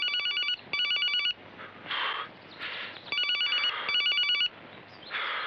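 A telephone bell rings in repeated trilling bursts, loud and close, with brief gaps and a murmur of background noise.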